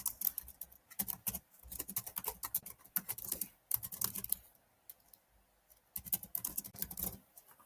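Rapid bursts of typing on a computer keyboard, close and crisp, come in uneven runs of clacking keys separated by short pauses.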